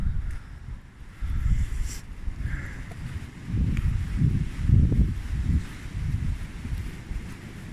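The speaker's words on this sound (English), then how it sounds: "Wind's picking up." Storm Arwen wind gusting beside Rea Brook in Shrewsbury, a steady low roar buffeting the microphone in waves that swell and ease throughout, close and fairly loud.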